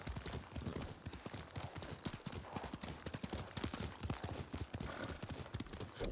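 Horse hooves clip-clop at a steady, brisk pace in the video game Ghost of Tsushima, a continuous rhythmic clatter of close, fairly soft footfalls throughout.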